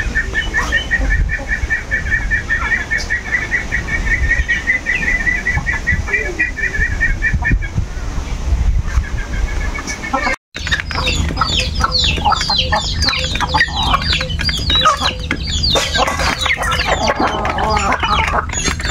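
Chinese ducks and chickens in a village farmyard, loud close clucking and cackling with wing flapping, a brief break, then busier bird calls, with someone talking throughout.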